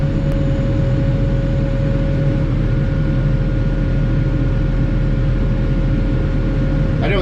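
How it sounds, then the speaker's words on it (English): A truck idles and rumbles steadily while getting ready to plow snow on driveways, a loud, continuous engine drone with a faint whine above it. "We can start doing a little plowing."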